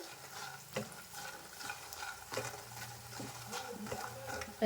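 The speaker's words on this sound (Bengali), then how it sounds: "এইভাবে নাড়াচাড়া করে করে রংটা পাল্টে নিতে হবে" Frying food stirred in a pan while bottle gourd cooks in oil, a soft constant sizzle broken by repeated scraping strokes of the spatula against the pan, fairly quiet and close.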